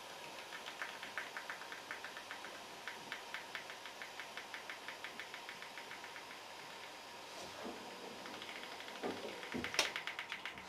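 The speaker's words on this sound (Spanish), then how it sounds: "motor puesto en marcha." An air compressor motor runs steadily while a tire-inflator nozzle is used, giving a fast regular knocking pulse with a brief louder burst near the end, and no talk.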